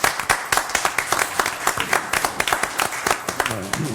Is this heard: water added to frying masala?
no